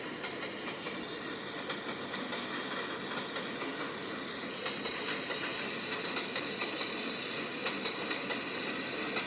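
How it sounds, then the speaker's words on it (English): A locomotive shoves its train through the Pinewood Tunnel into the yard, a steady broadband rumble of rolling wheels and engine drone that stays loud and even throughout, with faint rhythmic clicks and no voices. "The locomotive is then seen entering the Pinewood Tunnel, where it will be shoving its train into the yard."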